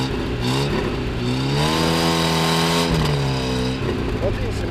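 A car engine revs hard and rises in pitch as the car is hauled out of a pit it fell into, loud and near, with a voice speaking over the engine noise.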